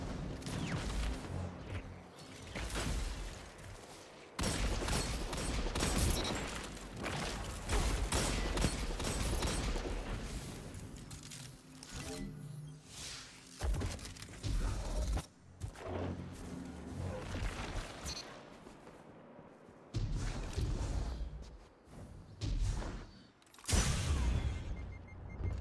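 Grenade launcher fire in a competitive shooter match, with repeated loud blasts, crashes and whooshes filling the mix over a dense, busy battle soundscape, coming in bursts with brief pauses throughout.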